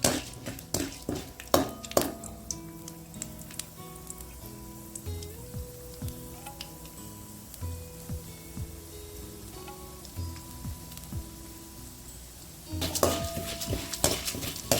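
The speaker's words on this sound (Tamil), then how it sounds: "எண்ணெய் காஞ்சதுக்கப்புறம் கடலைப்பருப்பு உளுந்தம் பருப்பையும் போட்டு கொஞ்சம் வறுத்துக்கலாம்." Chana dal and urad dal roast in hot oil in a pan, with metal clinks of a spoon against the pan and faint sizzling, louder scraping clatter at the start and end.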